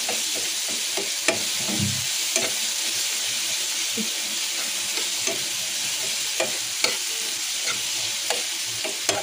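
Tomatoes fry in a pan for a chutney, a steady close sizzle running throughout with frequent scraping clicks of a spoon stirring them.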